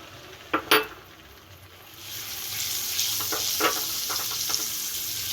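Yogurt being stirred into roasted chilli masala in a pan for dahi mirchi salan, with a couple of sharp spoon clinks early on, then a steady sizzle and scraping strokes close by, no talking.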